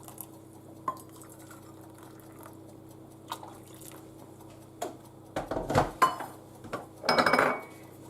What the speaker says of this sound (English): And mix it until the sugar is dissolved completely.